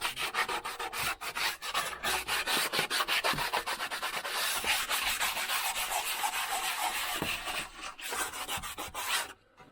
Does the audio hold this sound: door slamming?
no